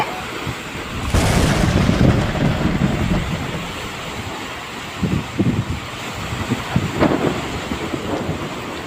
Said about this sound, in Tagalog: at nag-uumpisa na yung lakas ng alon